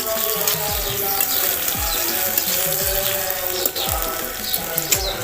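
Eggplant and tomato sizzle and crackle in a hot pan, with rhythmic scraping and stirring strokes repeating about every half second over the steady frying hiss.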